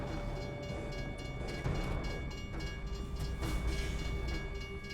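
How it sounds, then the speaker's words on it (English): A train rumbles past a railroad crossing in a driving video game, a continuous low rolling drone with steady tonal hums, moderately loud, and no voices. "Ah, train crossing."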